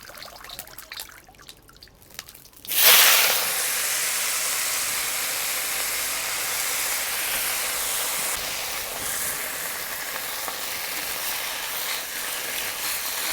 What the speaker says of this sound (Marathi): कढई गरम झाली भाजीसाठी तेल टाकून घेतलंय भाजी टाकून घेऊ